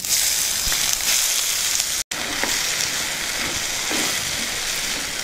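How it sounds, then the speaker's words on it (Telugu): Soaked moong dal frying in hot ghee, giving a loud, steady close sizzle and hiss that continues throughout, with a brief cut partway through. "ఇప్పుడు ఇదే నెయ్యిలో ముందుగా నానబెట్టుకున్న పెసరపప్పు వేసేద్దాం."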